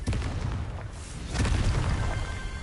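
Confringo fire spell explosions in Hogwarts Legacy on PS4, heard as deep, rumbling booms that swell near the start and again midway through, with a dense low roar throughout and no talking.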